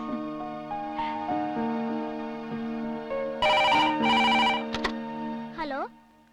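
An old-style telephone bell rings in loud repeated bursts close by, over a steady musical background in a Malayalam film scene.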